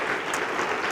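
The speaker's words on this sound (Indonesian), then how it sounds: "Terus kita beri tepuk tangan 1 menit" A church congregation claps in a dense, continuous burst of applause.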